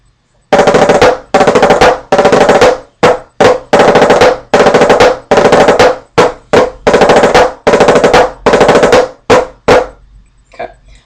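Snare drum rudiment phrase with flams repeated three times in a row without pauses, loud close sharp stick strokes in rapid bursts and clusters, solo with no talking.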